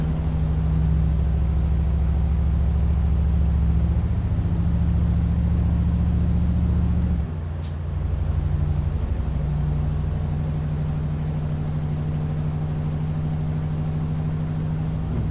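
A Mercedes NG1631 truck engine in Euro Truck Simulator 2 drones steadily at low pitch, dipping briefly as if shifting gear before resuming its even, loud hum without talk.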